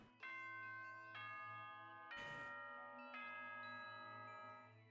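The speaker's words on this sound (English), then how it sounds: "Ding dong, bing bong." The school announcement chime from the Danganronpa video game sounds as a soft, clear ding-dong of sustained bell-like tones. Four struck notes ring in a steady descending pattern over a low hum, with a brief burst of noise between them.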